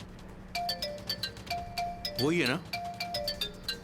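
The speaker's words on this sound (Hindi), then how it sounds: "मेहमान है, फोन आ गया" A phone rings with a repeated electronic ding-dong tone in short bursts, as a guest calls in a household scene, while a voice speaks briefly over it.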